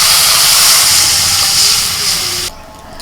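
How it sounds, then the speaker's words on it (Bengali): Water is poured into a hot pan of lightly fried potato, radish and cauliflower stalks, making a loud, steady steamy sizzle and hiss that drops suddenly to a quieter simmer near the end. "টকের সবজি খুব বেশি ভাজে না হালকা করে ভেজে আমি জল দিয়ে দিচ্ছি"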